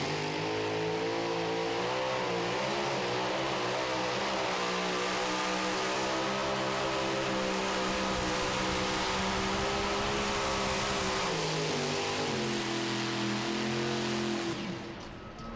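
A pulling tractor named North American Trailer roars at full throttle during a tractor pull in Goshen, its engine a loud, sustained drone that wavers in pitch, with the throttle stuck wide open, before cutting off near the end.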